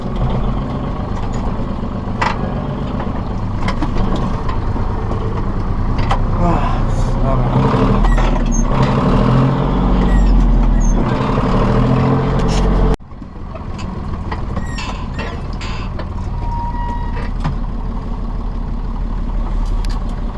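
A Zetor tractor drives along a farm field, its engine droning steadily and loudly, joined by rattles and clanks, with a brief drop in level partway through before the engine noise resumes.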